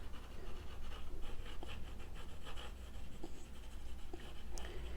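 Pencil sketching a face on paper, a soft continuous scratchy rubbing of graphite strokes with a few brief sharper ticks, steady and close with no talking.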